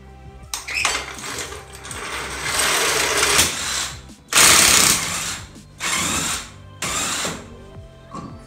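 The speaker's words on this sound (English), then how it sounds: "I like to break the lug nuts loose" A wrench ratchets and cranks on the wheel lug nuts of a Honda Civic, in several loud bursts of clicking and grinding metal separated by short pauses.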